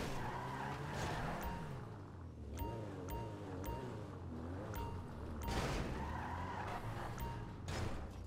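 A car's tires skid and squeal while it is being parked in GTA 5 Online, with engine and game noise underneath and a few short, sharp squeals breaking through the steady drone.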